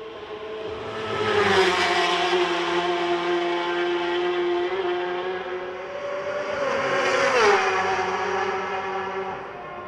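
Racing motorcycle during free practice at the Macau Grand Prix, its engine screaming loudly as it passes twice in close succession, each pass rising and falling in pitch with a sharp drop as it goes by.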